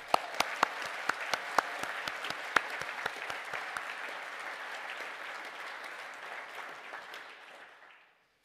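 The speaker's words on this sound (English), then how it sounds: "applause." Graduation ceremony applause for a physics and instrumentation class: a large crowd clapping steadily and densely for several seconds, with a few sharp claps standing out early, before the sound fades out to silence.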